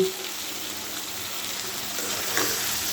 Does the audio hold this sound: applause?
no